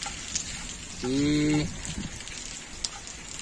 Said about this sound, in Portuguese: Chuva caindo. A mais fraca.